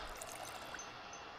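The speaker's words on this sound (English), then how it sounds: "So let's fill a water bottle." Water running into a bottle in the survival game Project Zomboid: a steady, soft pouring wash that holds level from start to finish with no break, moderately close and alone, with no voices.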